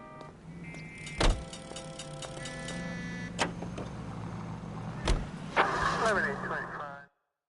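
Car driving in L.A. Noire, a steady engine hum with a few sharp clunks and shifting noises, while voices talk over it.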